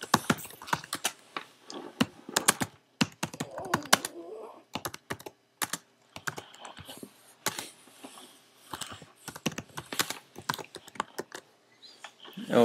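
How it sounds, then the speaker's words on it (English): Close, crisp computer keyboard typing in irregular bursts of quick keystrokes with brief pauses, as a translation is entered into software, with no talking. "We'll type in our translation."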